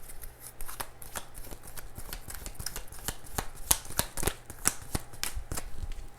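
Oracle cards from a Lover's Oracle deck being shuffled by hand, a steady run of crisp riffling snaps and soft slaps repeating rapidly and close, with a faint background hum and no talking.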